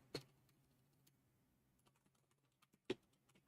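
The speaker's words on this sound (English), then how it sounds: "And my typing." A computer keyboard is typed on quietly while playing Satisfactory, with a few sharp isolated key clicks and faint scattered taps in a near-silent room.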